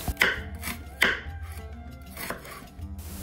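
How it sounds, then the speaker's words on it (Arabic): A knife chops onions on a cutting board in a few sharp, spaced strikes, close and crisp, with no voices. "حتى يتعلموا كيفية تقطيع البصل بطريقة سهلة"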